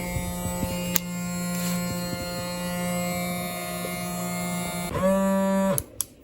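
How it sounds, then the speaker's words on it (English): A small USB electric pump draws air out of a vacuum storage bag with a steady electric motor hum. The pitch shifts near the end as the bag tightens, then the pump cuts off with a click. "You turn it on with the button and it takes out all the air."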